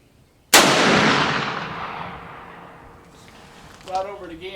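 A single loud, close gunshot fired while hunting, with a sharp crack and a long decaying echo rolling away, followed by faint voices.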